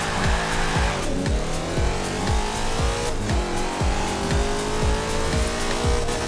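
A 1990 Chevrolet Camaro IROC-Z in Forza Horizon 4 accelerates hard through a run of rapid upshifts, the engine note repeatedly climbing and dropping, loud and continuous with a tire squeal near the start.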